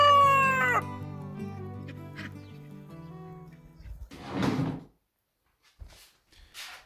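A cockerel named Big Boy crowing on a small homestead farm, one loud, drawn-out crow close by that fades, followed by scattered rustles and clatters in a quiet setting.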